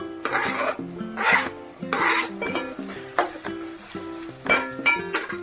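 Tomatoes, three of them, tipped into a pan of onions for a drumstick tamarind curry, with repeated metal clinks and scraping of a spoon against the pan over a light sizzle, close and moderately loud.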